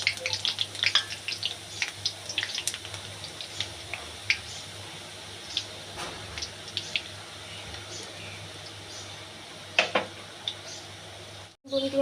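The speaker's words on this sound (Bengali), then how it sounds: "এখন ভাজবো যে কালারিং বুন্দিয়া আছে সেটা" Colored boondi batter sizzles and crackles as it fries in hot oil for a sweet boondi dish, a steady bubbling hiss with scattered sharp pops and spatters, moderately loud and close.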